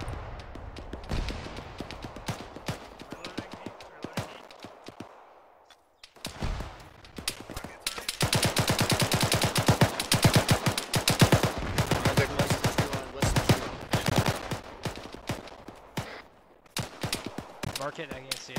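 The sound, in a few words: gunfire in ArmA 3 video game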